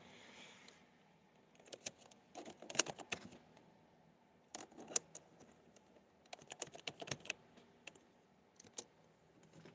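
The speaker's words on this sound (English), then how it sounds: "just typing something up real quick." Computer keyboard typing nearby, quick bursts of key clicks with short pauses between them, fairly quiet, with no talking.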